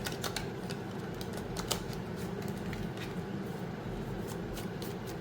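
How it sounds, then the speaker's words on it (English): Tarot cards being shuffled by hand, a steady papery riffle with repeated crisp flicks and snaps, close and fairly quiet, no voices. "we'll give it another shuffle"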